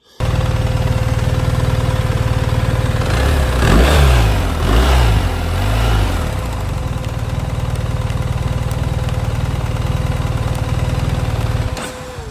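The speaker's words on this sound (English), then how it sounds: "highlighting the engine running, but it just will not turn off with the kill switch" A BMW R1300GS motorcycle engine idles continuously nearby, briefly revving up and settling back into a steady loud putter before cutting off at the end; its kill switch is defective.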